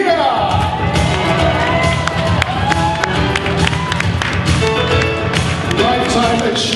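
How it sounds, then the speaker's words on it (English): An audience at a Filipino American media awards ceremony bursts into loud, sustained applause mixed with cheers, whoops and shouts, filling the hall continuously. "Please give a big round of applause for the amazing"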